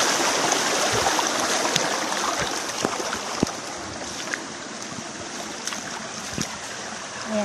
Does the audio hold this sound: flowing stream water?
yes